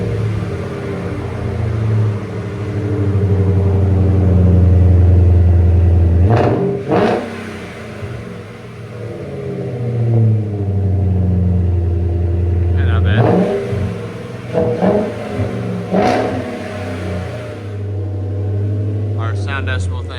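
A 2006 Jaguar XJ8 with a 4.2L V8 and Flowmaster Super 10 exhaust revs hard several times, a loud, deep roar rising and falling in long bursts. Between the revs the engine settles to a rumbling idle.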